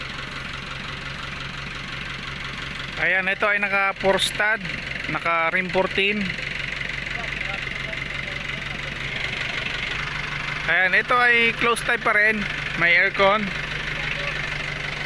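An Isuzu C190 engine idles steadily in an owner-type jeep, a continuous low rumble nearby while someone talks over it at intervals.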